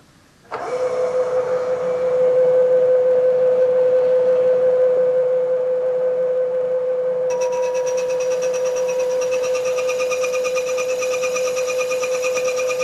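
A machine tool in a machine shop cuts a part clamped in a vise with a light pass about 20 thousandths of an inch deep, giving a loud steady tonal whine that gains a higher shrill edge midway, continuous and close.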